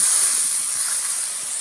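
Small splash of water hitting a hot pan of Bengali egg and pointed gourd curry with yogurt, releasing a steady, close steamy hiss with no talking.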